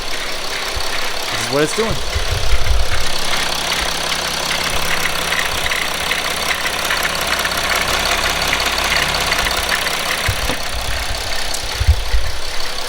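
A 2008 Mercedes GL320 with the OM642 diesel idles with an abnormal noise at about 199,000 miles, a steady close rumble with a faint rhythmic knock, while someone talks over it at the end.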